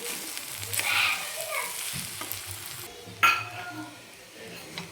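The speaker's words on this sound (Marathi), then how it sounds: "हा भात टाकून घेतला आता आपण छान एकदम मिक्स करू" Rice with fenugreek and egg is stir-fried in a pan, a soft sizzle broken by utensil scrapes and a sharp metallic clink against the pan.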